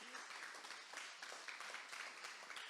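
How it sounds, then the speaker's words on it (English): A round of applause rises from the audience at a community meeting, a dense, sustained patter of many hands clapping at moderate distance with no talk over it. "Round of applause for everyone."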